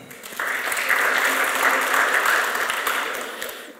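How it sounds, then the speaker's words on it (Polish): An audience at a conference session applauds, a dense, steady wash of clapping that starts abruptly, holds for about three seconds, then fades gradually. "Serdeczne brawa."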